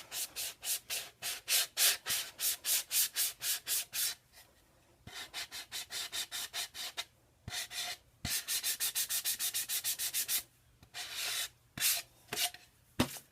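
An edge of a workpiece being sanded by hand, heard as rhythmic bursts of rough rubbing strokes in quick, even runs separated by short pauses, close-up and fairly loud with no talking.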